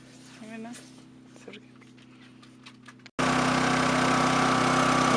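A Champion 3400W inverter generator runs outdoors while the listener stands indoors. At first only a faint, muffled low hum comes through under a voice, then a much louder, steady broadband engine drone fills the last two seconds.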